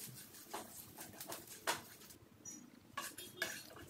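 Grated fresh coconut, chana dal and peppercorns dry roasting in a pan over a medium flame, with a few sparse metallic clinks and scrapes of a spatula against the pan, faint and quiet, no voices.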